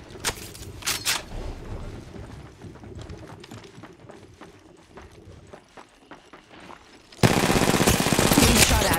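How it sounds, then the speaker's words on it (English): Gunfire in the mobile shooter Apex Legends Mobile: sporadic sharp shots and rapid bursts at moderate distance, then a loud dense volley of sustained automatic fire toward the end. "Opening fire. Getting shot at."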